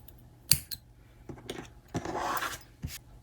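Scissors snipping through crochet yarn up close, a few faint, short cuts and soft rustles spread over a few seconds in a quiet room.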